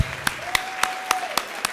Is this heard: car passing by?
no